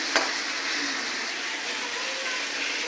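Spices sizzle steadily in hot oil in a pan for egg biryani, a dense, even frying hiss close by with one brief clink near the start.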